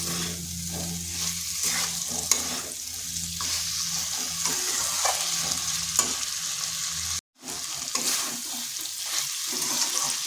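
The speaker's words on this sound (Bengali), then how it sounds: "এইভাবে আলুর সঙ্গে মশলাটা 3 থেকে 4 মিনিট ভালোভাবে কষিয়ে নিতে হবে।" Small winter potatoes sautéing with spices in a pan, a continuous close sizzle with repeated scraping stirs of a spoon; the sound cuts out briefly for a moment before the frying resumes.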